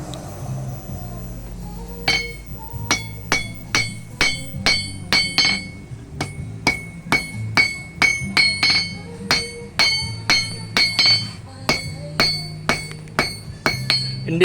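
Steady, rhythmic hammer strikes ring out on a welded knife blade tang, each blow a bright metallic clink, close and evenly paced for several seconds with no talking.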